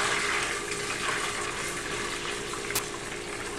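Purified water poured in a steady, continuous stream into a beer brewing vessel for a Bavarian hefeweizen batch, a close, even hiss and rush of liquid lasting throughout with no talking.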